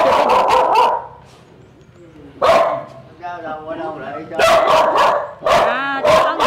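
A dog barks at a local market in Vietnam. Bursts of loud, close barking come at the start and again later, with people talking in between.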